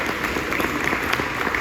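Brief burst of crowd applause at an outdoor Porchfest music event in Raleigh, dense steady clapping from a gathered audience for under two seconds.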